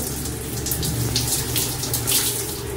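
Running water rinsing shampoo out of hair, a steady close splashing flow with no pauses, moderately loud.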